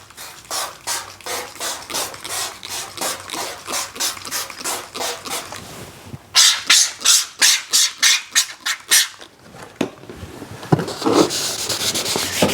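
A car's paintwork is rubbed vigorously by hand to lift a scaly milky residue, giving a fast rhythmic series of close swishing strokes that pause briefly and then pick up again in quicker bursts, with no voices.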